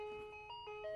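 Ice cream truck jingle played by a novelty Scoops and Sprinkles kit box, a tinny electronic melody of steady sustained tones with shifting pitches, quiet and alone with no talk.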